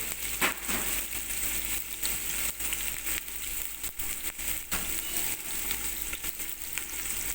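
Oil sizzles and crackles steadily as chopped garlic and onions fry lightly in a pan for broccoli, with occasional stirring scrapes and no one speaking.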